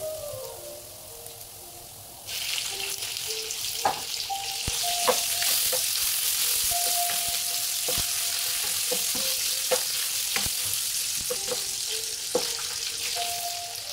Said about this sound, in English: with a couple of tablespoons of vegetable oil in her frying pan, she's going to fry up the garlic